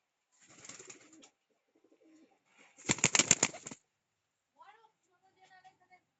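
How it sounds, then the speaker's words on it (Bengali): A pair of Kalchira pigeons coo in scattered short bursts with quiet gaps between them. A louder, rougher flurry comes in the middle, and the whole is faint and close. "এটা আরেক জোড়া কবুতার এটা কি কবুতার এটা কালচিরা"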